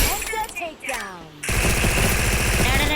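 A voice speaks briefly with game-like tones, then rapid automatic gunfire in Free Fire erupts and rattles continuously, loud and close.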